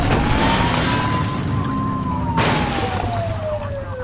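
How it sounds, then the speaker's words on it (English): A police car siren in a police officer video game wails steadily, one long rising and falling tone close and loud, with no talking over it. "Turn that siren off."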